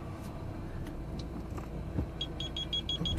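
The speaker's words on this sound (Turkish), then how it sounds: "Sesli böyle bir park sensörü uygulaması yaptık" An aftermarket audible parking sensor on a Dacia Dokker van reversing beside a shop emits a quick series of short, evenly spaced high beeps near the end, faint over low background noise.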